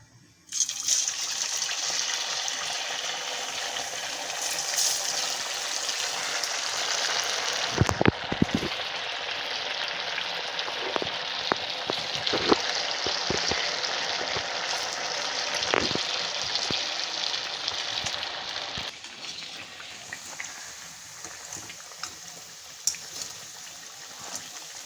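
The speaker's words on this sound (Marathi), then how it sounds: "तर आपला साबुदाणा वडा तिकडे तळतोय" Sabudana vadas sizzle in hot oil with a steady, dense crackle and hiss, close and fairly loud, punctuated by sharper pops and clicks; the frying settles slightly quieter toward the end, with no talking.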